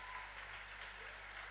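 Audience clapping at a live science comedy show, a steady dense wash of applause that holds at an even level throughout the short stretch.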